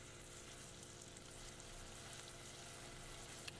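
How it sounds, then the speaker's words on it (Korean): Chopped scallions fry in hot oil in a pan to make scallion oil, giving a steady, dense sizzle and crackle that runs close and unbroken throughout with no talking. "먼저 파기름을 낼게요"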